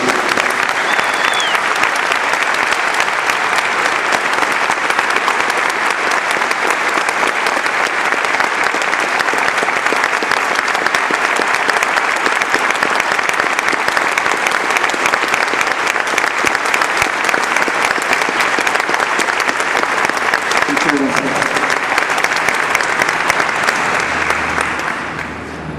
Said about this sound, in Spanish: Les pedimos entonces, a nombre de ellos, un fuerte aplauso a su memoria y un fuerte aplauso a su lucha